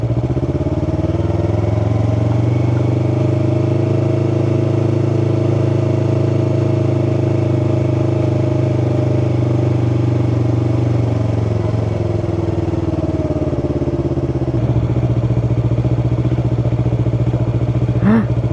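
A Yamaha R3 motorcycle engine runs close up from the rider's position, a steady loud mid-pitched drone held at constant revs, then dropping in pitch near the end as the throttle eases off.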